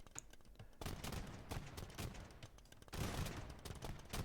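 Scattered volleys of gunfire from hand cannoneers crackle through a video game battle, rapid overlapping shots in bursts that swell near the end, with no speech.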